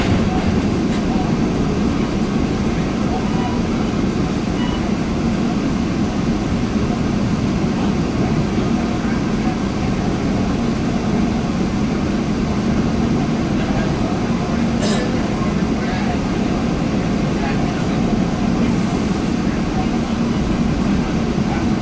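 Inside a commuter coach behind an EMD F40 diesel locomotive on South Coast Rail, a loud, constant low rumble of wheels and engine drones throughout, with a brief sharper clatter midway.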